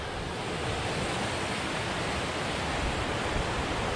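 Pine Creek flowing along the Turkey Path Trail in the Pennsylvania Grand Canyon, a steady, full rush of water with no break or change in level.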